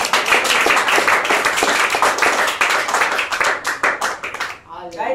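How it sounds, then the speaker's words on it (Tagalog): Close, loud clapping from a congregation at a midweek church service, brisk and uneven hand claps that thin out near the end as a voice begins speaking. "Palakpak na para sa Panginoon."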